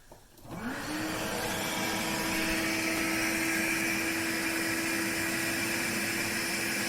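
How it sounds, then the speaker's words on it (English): A shop vac starts up and then runs as a steady, loud, close whine with a constant tone, drawing air through a car's MAF sensor, with no talking. "we'll plug the shop vac back in"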